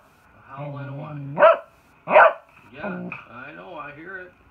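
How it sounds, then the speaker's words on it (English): A cocker spaniel eager to go to the dog park gives two loud, sharp barks between drawn-out whining and howling, close to the microphone, with a person talking to it over the vocalizing. "A howl and a whine."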